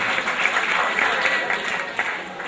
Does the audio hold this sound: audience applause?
yes